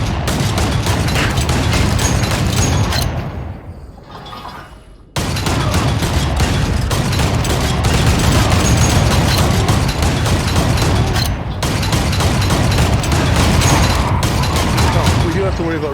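Rapid bursts of gunfire and booming blasts from the ArmZ VR shooter game pound almost continuously, loud and dense, broken by one short lull and a sudden cut before the barrage resumes.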